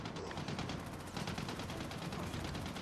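Rapid machine gun fire in the Army of Two: The Devil's Cartel shooter game, a continuous dense burst of rattling shots filling the whole stretch, with no talk over it.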